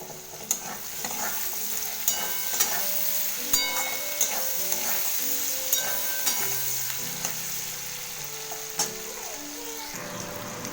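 Chopped tomato goes into potatoes frying in a pan, followed by steady sizzling and repeated clinks of a spatula stirring against the pan.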